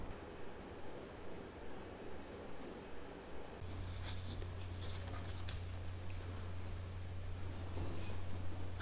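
Soft, steady watercolor paintbrush strokes on paper, bristles separated by fingers, repeating at a slow pace, close and quiet, with a low hum entering partway through.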